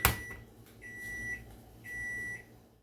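Close by, a microwave softening margarine in a mug gives a door clunk, then two steady electronic beeps in a row over a low hum; nobody speaks.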